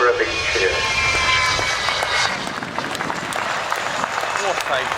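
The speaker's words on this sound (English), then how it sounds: "Give her a big wave, give her a big cheer." An airshow crowd at Farnborough applauds and cheers as an aircraft lands, a steady wash of clapping and roar running the whole way, with a commentator talking over it.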